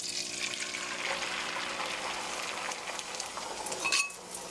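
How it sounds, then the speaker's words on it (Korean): Beaten eggs poured into an oiled frying pan for a cheese omelette, giving a steady wet hiss and gentle sizzle that rises briefly near the end, with no talking over it. "자, 풀어놓은 달걀 넣어주세요."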